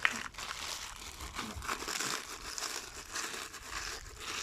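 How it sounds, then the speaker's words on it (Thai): A plastic bag crinkles and rustles continuously at close range as lemongrass is squeezed and kneaded inside it while making an egg hormone fertilizer, a soft, irregular crackling with small crunchy bursts. "ใส่ถุงขยำขยำแล้ว"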